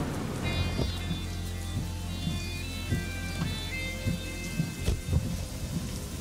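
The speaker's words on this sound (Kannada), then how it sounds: "ಮಳೆ ಬರ್ತಾ ಇದೆಯಲ್ಲ." Steady heavy rain falls through a night scene in a Kannada drama film, with low rolling thunder rumbling underneath and scattered louder drop impacts; the storm is continuous and fairly close, with no talk over it.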